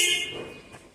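A short, bright honk from a car horn triggered by a button press, sounding loud and close at first and then fading out within a second.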